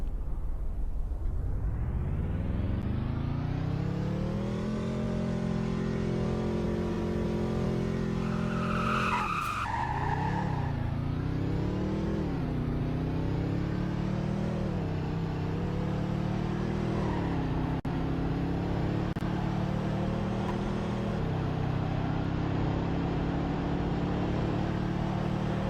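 A car in the Roblox game Greenville accelerates hard during a speed test, its engine tone climbing steadily in pitch and staying loud and continuous, with a brief tire-squeal burst midway before the revving resumes.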